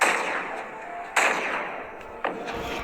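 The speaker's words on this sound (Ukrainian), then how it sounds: "Кто там стріляє з автомату?" Three loud gunshots crack out about a second apart, each followed by a rolling echo that fades before the next.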